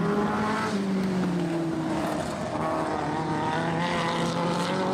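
A vintage speedcar with an Esslinger Ford Pinto motor on petrol and a three-speed gearbox runs at Archerfield Speedway, a steady loud engine drone with slowly wavering pitch and no break.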